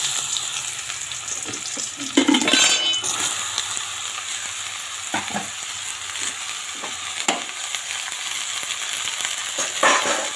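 Pieces of bottle gourd hiss and sizzle steadily in hot oil with radhuni seeds and bay leaves, a loud continuous fry close by, broken by a few clinks and stirring scrapes, with no talking.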